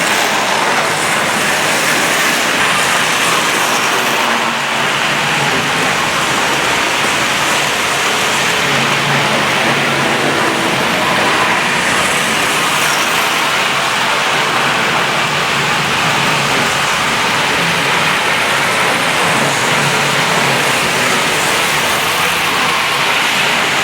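Seven Tri-ang model locomotives, single and double-ended, run together on the track, making a loud, steady, broadband whirring rush that continues without a break.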